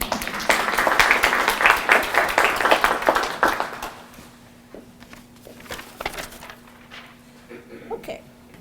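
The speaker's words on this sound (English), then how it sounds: "So I'm going to give you a round of applause." Applause from a community literacy program gathering honoring adult volunteer tutors, a loud dense burst of clapping for about four seconds that thins into scattered claps and quieter room noise.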